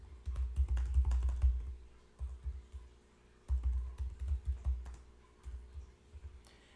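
Fingers type sentences on a computer keyboard in quick, uneven bursts of clicks, with a brief pause near the middle before the typing resumes. The keystrokes sound close and moderately quiet.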